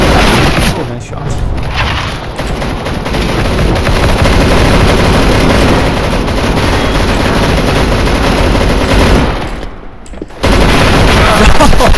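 Rapid M249 machine gun fire in a CS:GO deathmatch on the Office map, a loud continuous stream of automatic shots with brief gaps, heard alongside game sounds and a voice talking over it.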